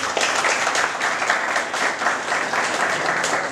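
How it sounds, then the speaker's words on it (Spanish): Sustained applause from an audience at a Spanish-language public service event, a steady dense clatter of many hands running without pause from start to finish. "Aplauso para él."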